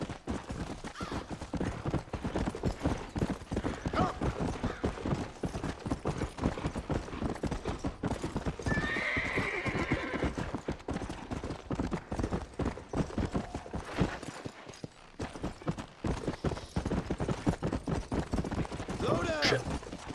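A horse gallops in the video game Red Dead Redemption with rapid, continuous hoofbeats, loud and close throughout. Occasional bursts of gunfire-like noise mix in, and voices come and go over it.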